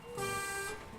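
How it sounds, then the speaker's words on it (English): A truck horn in the video game Snowrunner gives one short steady beep, a sustained tone lasting about half a second over a quiet engine background. "If I push down on the left sticks, it'll beep the horn."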